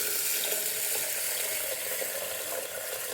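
Water runs steadily into a vessel of washed mung beans, just enough to cover them, a continuous splashing rush that holds an even level throughout without pause.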